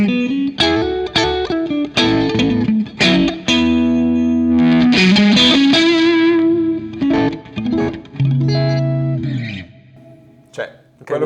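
A Sire Larry Carlton electric guitar played with high gain gives loud, distorted, sustained notes and chords in bursts with short gaps, then fades out near the end.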